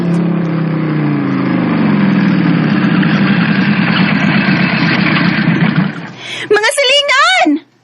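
A motor idles with a steady low rumble for several seconds, then cuts out as a person starts talking nearby.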